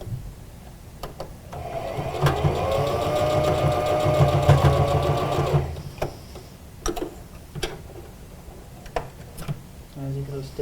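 A sewing machine runs a steady stitching seam on a homemade fabric mask for several seconds, then stops, leaving scattered clicks and handling noises.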